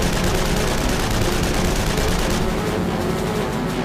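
Machine guns of a First World War fighter plane firing, a dense continuous rattle of rapid shots that fills the whole stretch, loud and harsh with no pauses.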